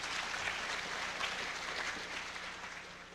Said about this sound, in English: There, now you can applaud.